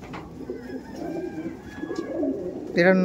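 Andhra pigeons at a pigeon loft coo in low, rolling calls, close and fairly loud, with a few soft overlapping coos and a louder burst near the end.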